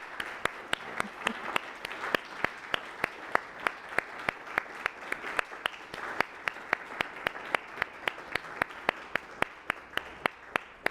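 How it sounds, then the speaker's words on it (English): A church congregation at a Sunday service applauds together, steady warm clapping from a moderate-sized crowd with a few sharp individual claps standing out throughout, no talking over it. "I'm going to invite us to applaud our way of expressing gratitude"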